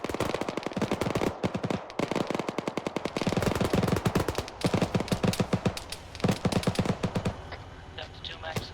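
Dense automatic gunfire from AI soldiers in the modded Arma 3 shooter, rapid bursts crackling near and far in an unbroken barrage with overlapping shots.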